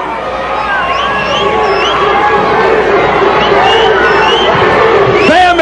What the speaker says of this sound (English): The fans here obviously yelling for Bambi.